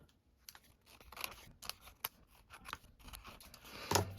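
Scissors trimming the edges of a paper craft project in a series of close, quiet crisp snips and cuts at an uneven rhythm, ending with a sharper final snip, with no speech.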